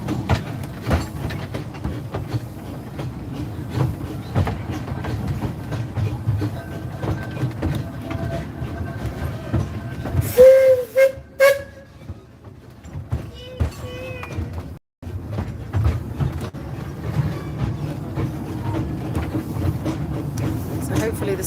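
A steam locomotive at Amberley Chalk Pits Museum chuffs in a steady, rhythmic, fairly loud beat, with a few brief high squeals and a short lull midway.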